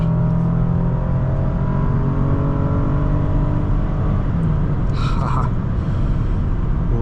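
A loud 2010 Lexus ES350 engine drones and revs continuously, a steady mechanical roar with a short higher whine partway through.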